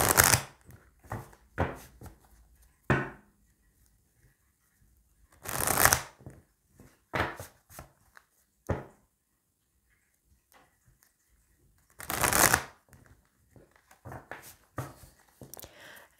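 Oracle des médiums cards shuffled in several separate bursts of crisp riffling and flicking, some short and some longer, with quiet gaps between them and no talking.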